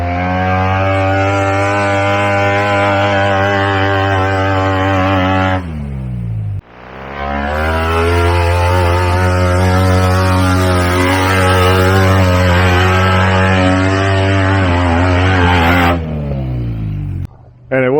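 A wild home-built off-road tube buggy on H1 double bead-lock wheels roars in mud, its engine revving hard and steadily for several seconds, cutting out briefly, then revving again loud and close.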